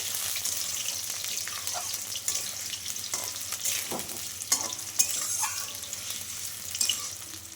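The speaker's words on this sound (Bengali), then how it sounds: "আলুটা কিন্তু লাল লাল করে ভাজা হয়ে গেছে" Oil sizzles steadily as potatoes fry until reddish-brown, with a spoon stirring and scraping the pan in intermittent clinks, close and fairly quiet.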